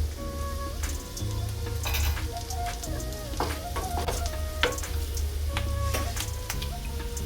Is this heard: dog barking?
no